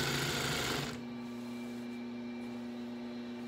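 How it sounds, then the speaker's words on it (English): A Singer 281-1 sewing machine stitching a jean hem on denim, a steady close mechanical hum and whir that runs throughout, slightly louder at first then settling into an even drone. "and then just sewing"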